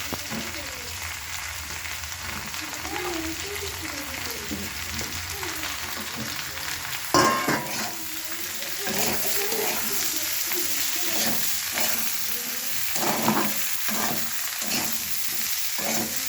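Home-grown beans with red chilli powder sauté in a pan for paneer, a steady close sizzle with the scrape and clatter of stirring, intermittent knocks against the pan.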